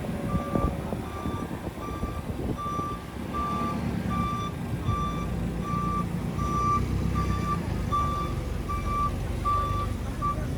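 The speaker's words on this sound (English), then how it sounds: "forklift bringing more boxes out here" A forklift reverses, its backup alarm giving a steady string of evenly spaced beeps over a low engine rumble and warehouse background noise.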